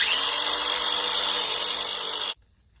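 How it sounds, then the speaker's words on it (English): Steady, loud abrasive sanding on a fuel tank fitting for a Spector Duramax Flo N Go rolling-wheel gas tank runs for a little over two seconds, then stops abruptly, leaving near-silence. "you got to sand this so the nut can go on"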